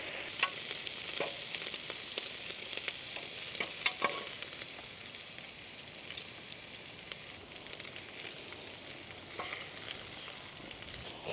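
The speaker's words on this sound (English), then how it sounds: "Bacon is a cooking." Bacon sizzling in a pan while cooking at a campsite by a campervan, a steady close crackling hiss with scattered pops and light stirring clicks, no voices.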